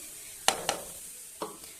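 Ground fenugreek paste going into a frying pan, heard as a few sharp clattering scrapes and soft taps of utensil on pan at close range, quiet and spaced apart, with no talking.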